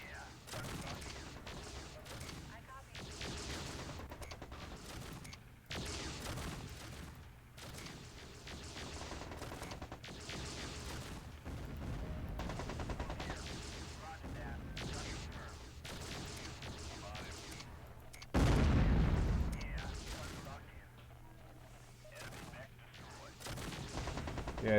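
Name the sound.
autocannon fire in the video game MechCommander 2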